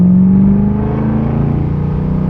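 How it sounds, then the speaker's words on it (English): A Ford GT500 fitted with a Flowmaster Outlaw exhaust accelerates in second gear, a loud, steady, deep engine roar that holds its rising drone throughout without any speech. "just the sound of the Outlaws, guys, it sounds so good."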